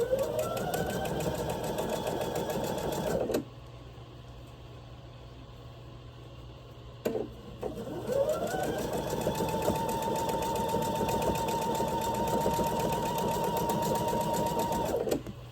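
A sewing machine stitches pieces of a carrot quilt block in a steady high-speed whir, stopping for a few seconds in the middle before starting again and running continuously, close and alone.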